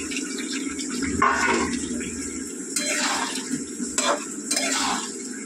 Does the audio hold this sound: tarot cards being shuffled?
no